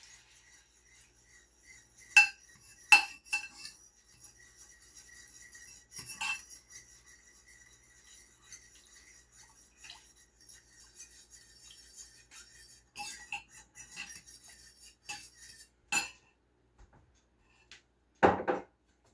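A metal whisk works broth into a flour roux in a pan, giving sparse, scattered clinks and scrapes against the pan with quiet gaps between them.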